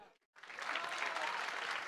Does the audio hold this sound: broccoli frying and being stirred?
no